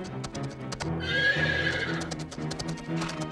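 Horses whinny loudly over a steady clatter of hooves, with several animals close by, in an animated cartoon.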